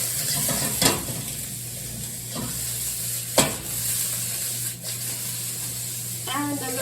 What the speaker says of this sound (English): And that snapping is due to the corn still being fairly frozen.